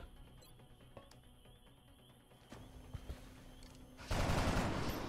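Heavy gunfire in the video game XCOM: Long War: scattered sharp shots, then a dense, loud burst of fire at the end.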